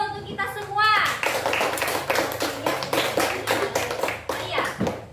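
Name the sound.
classroom applause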